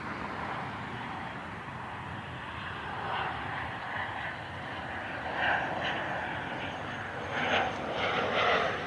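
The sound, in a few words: Citation X business jet aircraft passing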